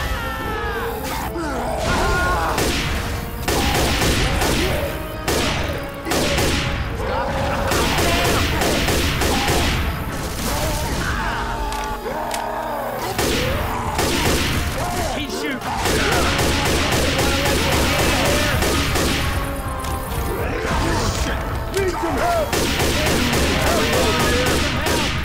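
Gunfire in Left 4 Dead 2 at the Dark Carnival during a Tank attack, with dense, continuous shooting, crashes and impacts filling the mix while several players talk over the chaos.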